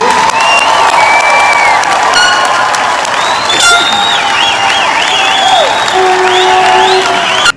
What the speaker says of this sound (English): Family and friends, let's applaud these Bison graduates.